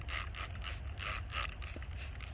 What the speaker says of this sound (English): I'm going to get my mighty spray bottle and just spray it in real good